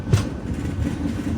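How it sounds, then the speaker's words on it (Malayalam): Train rumbling steadily as it pulls into Kayamkulam Junction railway station, a low continuous rolling drone with a slightly louder burst near the start and no talk. "ട്രെയിൻ ഇപ്പോൾ കായംകുളം ജംഗ്ഷൻ റെയിൽവേ സ്റ്റേഷനിലേക്ക് എത്തിയിരിക്കുകയാണ്."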